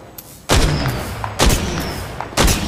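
Three sniper rifle shots in a video game, evenly spaced loud sharp cracks with booming tails, close and dominant without talk.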